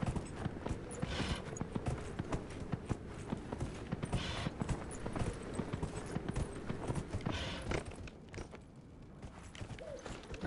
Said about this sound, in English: It's like riding a real horse.